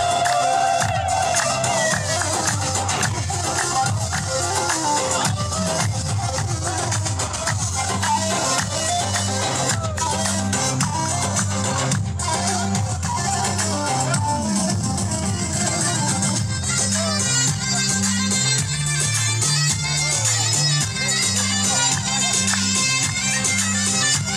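Dense crowd of locals at a street celebration in Aqaba, Jordan, a constant loud wash of voices and cheering over pounding rhythmic music, with no break across the whole stretch.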